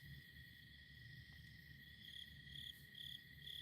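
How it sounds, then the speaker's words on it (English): Crickets chirp steadily in grass at night near a tent, a continuous high trill with soft pulsing bursts over a low background hum. "Yeah, the crickets."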